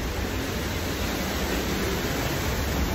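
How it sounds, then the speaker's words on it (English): A theme park ride's waterfall roars as a dense, steady wash of falling water, loud and unbroken throughout. "Here's the waterfall"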